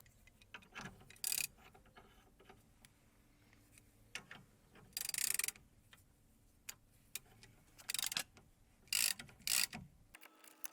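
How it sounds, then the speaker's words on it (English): A hub puller's central bolt is tightened with a ratchet on a Jaguar X-Type driveshaft hub, giving quiet clicking ratchet pawls and short bursts of louder mechanical ratcheting, with brief pauses between turns. "All we need to do is tighten the central bolt."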